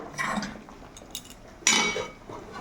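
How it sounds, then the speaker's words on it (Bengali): Pumpkin curry is tipped out of a cooking pot, with metal utensils clinking and scraping against it in short, close bursts, including one sharper clatter near the end and quiet gaps in between. "আর এবারে তরকারিটা ঢেলে ফেলবো"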